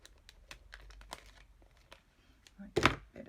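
Scissors trim the bottom edge of a plastic sheet on a handmade waterfall feature page. Soft small clicks and crinkles lead to one louder, crunchy snipping burst near the end.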